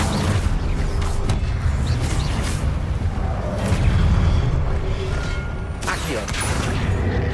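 Spell explosions go off in the video game Hogwarts Legacy, heavy rumbling booms and crackling blasts that roll continuously at high volume, with some talk underneath.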